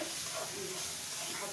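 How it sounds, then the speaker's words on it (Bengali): Spice masala fries in a pan, giving a soft, even hiss that holds at moderate level throughout, with a brief louder scrape near the end. "এটা একটু আর একটু ভাজা ভাজা করে দিচ্ছি মশলাটা, যাতে একটু ভাজা হয়।"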